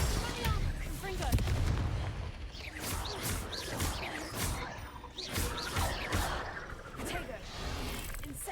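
Fast spell-combat effects from Hogwarts Legacy burst and whoosh repeatedly, including the explosive Confringo fire spell, in a dense, loud stream of blasts and swishes with game audio layered throughout.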